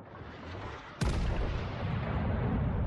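A single heavy naval gun salvo from the battleship HMS Marlborough in World of Warships: Legends booms out at once, a sharp broadband blast followed by a long sustained roar and rumble that fills the rest of the moment.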